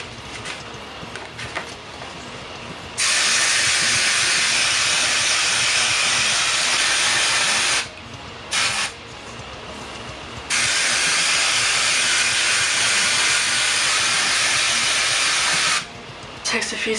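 L'Oréal Magic Retouch black root touch-up spray hissing from an aerosol can in two long continuous bursts with a brief sputter between them, close and loud.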